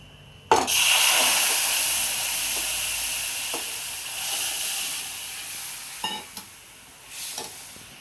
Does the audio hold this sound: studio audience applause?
no